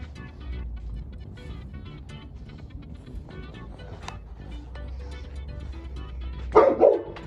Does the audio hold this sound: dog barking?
yes